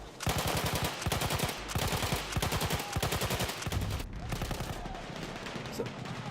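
Rapid bursts of automatic gunfire from the World War I shooter game Battlefield 1 during a competitive esports Conquest match, loud and near, in several rattling volleys with brief gaps between them.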